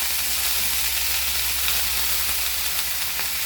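Leafy greens dropped into hot mustard oil tempered with mustard seeds and a dried red chilli, sizzling loudly and steadily as a constant close hiss with no talking.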